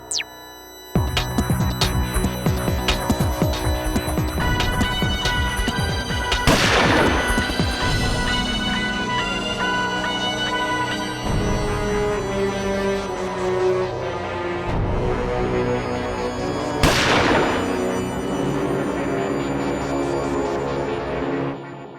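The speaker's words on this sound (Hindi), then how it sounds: "मैंने गोली चलने की आवाज तो सुनी" Loud festive music with drums plays throughout, broken by two sharp gunshot-like bangs several seconds apart.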